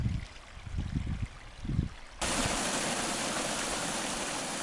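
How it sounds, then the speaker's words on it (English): Spring water pours out of a good-sized culvert along a ditch bank, a loud, steady broadband rush that cuts in suddenly after softer gurgling and splashes. "There it is, all coming out of that one culvert. And that's a good-sized culvert. And that's a lot of water."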